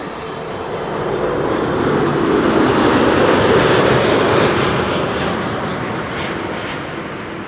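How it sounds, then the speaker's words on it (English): A Delta Airlines Airbus A330-300 arriving from Atlanta lands at Amsterdam Schiphol, its broad jet roar swelling as it passes close, peaking mid-pass and fading slowly away, with no voices over it. "This is Delta Airlines flight 74, an A330-300 arriving from Atlanta, Georgia."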